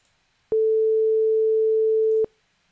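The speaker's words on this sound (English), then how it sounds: "An oscillator creates a tone, and here is a program that plays a tone" A steady 440 hertz sine tone generated by a p5.js oscillator, a single pure pitch that starts abruptly, holds for nearly two seconds and cuts off cleanly against silence.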